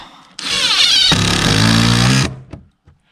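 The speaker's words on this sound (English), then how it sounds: "I'll put some more screws in this latch here." A power drill drives old salvaged screws into a barn door latch, one loud whirring burst of about two seconds that drops to a lower grinding pitch as the screw bites, followed by a faint clunk.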